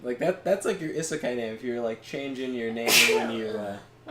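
A single sharp sneeze bursts out midway through a stretch of casual conversation, brief and close, with talking continuing around it.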